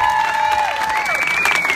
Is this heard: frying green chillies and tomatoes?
no